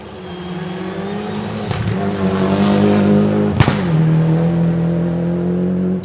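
A Mazda Group A 323 rally car on a forest gravel stage, its engine rising and falling as it passes, loud and fairly close, with a sharp burst near the middle of the pass.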